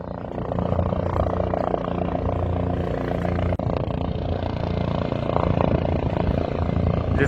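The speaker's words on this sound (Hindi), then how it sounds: "हेलीकॉप्टर लैंड करने वाला है, आप देख रहे हैं।" A steady, loud helicopter roar with dense rotor and engine rumble, continuous throughout, with faint crowd noise mixed in.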